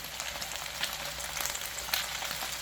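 Chicken wings fry in a pan for a Korean stir-fried wing dish, giving a steady close sizzle with fine crackling pops throughout, no talking.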